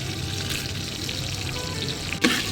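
Bay leaves, cinnamon and crushed black pepper frying in butter and white oil for a chicken stew, a steady close sizzle with a light stirring clink near the end.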